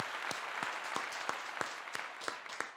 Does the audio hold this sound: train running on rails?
no